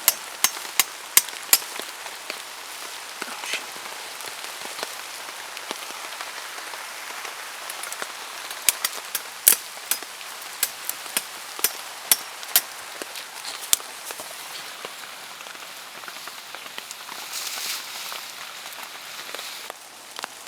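Steady patter of rain on a surface at a campsite, punctuated by frequent sharp, close drips and taps at irregular intervals.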